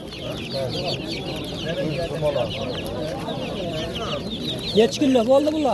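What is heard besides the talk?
chicken clucking at a poultry market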